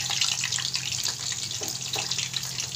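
Chicken and cheese stuffed kebabs frying in oil in a pan, a loud continuous sizzle with crackling bursts, close up and with no talking.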